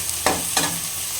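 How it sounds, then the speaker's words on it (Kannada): Grated carrot is stir-fried with onions in a pan, a steady sizzle punctuated by two quick scraping stirs of a spatula in close succession. "ಈರುಳ್ಳಿ ಚೆನ್ನಾಗಿ ಫ್ರೈ ಆಗಿದೆ ಇವಾಗ ಕ್ಯಾರೆಟ್ ತುರಿ ಹಾಕ್ಕೊಳ್ಳೋಣ"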